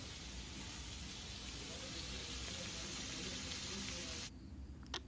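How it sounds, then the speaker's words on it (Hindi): Onions frying in oil in a pan give a steady, close sizzle that runs unbroken for about four seconds, then cuts off abruptly and leaves a couple of faint clicks. "मैंने तेल वेल डाल के प्याज व्याज लाल कर लिया है।"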